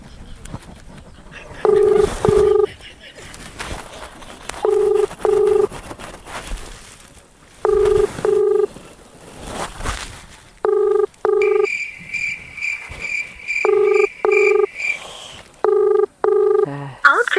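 An outgoing phone call in a rural village setting: repeated paired ringback beeps sound at regular intervals, with a longer, higher steady tone midway, while people talk over and between the rings.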